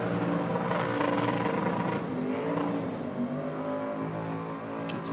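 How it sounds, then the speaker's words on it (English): Ute engine at a car show and dragway, held on the rev limiter at wide open throttle, a loud sustained droning roar with steady harmonics close by and no talk. "she's got it re-fired and back up onto the limiter. Oof. Plenty of wide open throttle happening there."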